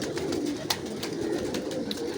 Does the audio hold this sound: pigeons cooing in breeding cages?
yes